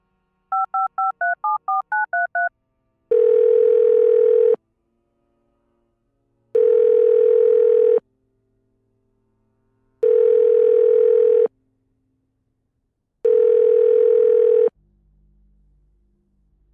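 In the video game Art of Murder, a telephone number is keyed in as a quick run of beeping touch-tones, followed by four long, evenly spaced ringback tones with silent gaps between them, unanswered.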